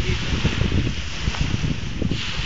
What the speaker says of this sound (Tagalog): Ang lakas, sarap ng hangin dito.